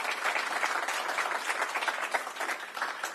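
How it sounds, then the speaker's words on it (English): Audience applause at an indoor Washington State Juneteenth celebration: a crowd clapping steadily at moderate volume, dense and continuous with no talking over it. "we could give them a round of applause"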